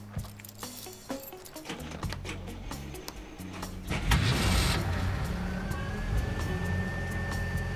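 Car engine being started, a few clicks and clunks of the cabin followed by the starter cranking and the engine catching into a steady idle, close and fairly loud.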